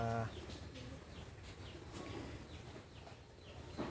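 Pigeons in a breeding loft coo softly and intermittently at low volume, with a few faint chirps and a sharper call near the close, no voices.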